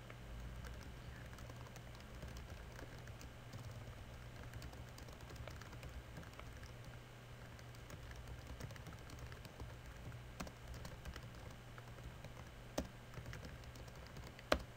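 Quiet, steady clicking of a computer keyboard as a short Facebook status update is typed, soft and continuous over a faint background hum.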